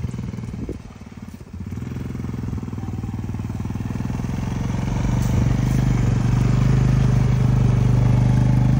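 Four-wheeler ATV engine running nearby, a low steady drone that dips briefly then climbs to a louder, even rumble as the throttle is held open, with no voices over it.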